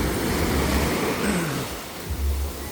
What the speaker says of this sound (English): once I pour this water back out to the ocean, once I release it